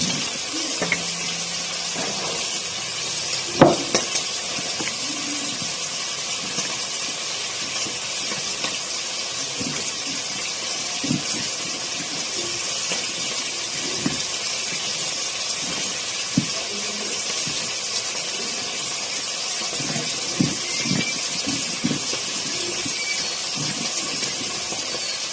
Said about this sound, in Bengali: চিকেন প্রায় হওয়ার দিকে কষিয়ে নিচ্ছি